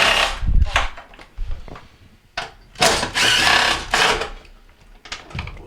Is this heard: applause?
no